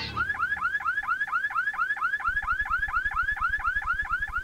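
A Sears home security alarm in a 1994 TV advert wails with a rapid, repeating up-sweeping electronic chirp, loud and continuous; partway through, a fast low pulsing beat joins it.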